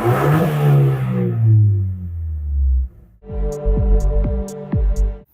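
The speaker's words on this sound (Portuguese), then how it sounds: "o ronco desse carro é diferente e a gente vai ouvir agora" A 2024 Abarth Fastback with dual exhaust revs hard and falls back, then after a short pause its engine fires up and burbles with quick throttle blips, loud and close, no voices.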